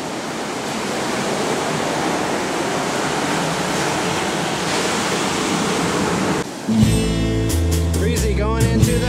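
Ocean surf washing onto a Florida beach, a loud broad continuous rush of breaking waves that cuts off abruptly near the end into other brief sounds.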